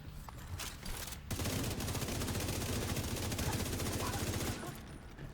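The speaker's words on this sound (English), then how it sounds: "This name boss has a SMG." Rapid SMG gunfire in a video game boss fight, a dense sustained burst of closely spaced shots lasting several seconds, loud and near, preceded by a couple of brief isolated bangs.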